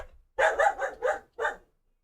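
Indoors or nearby, a female dog lets out an excited burst of three quick barks, then one more after a short gap. The barks are clear and close, with no talking over them.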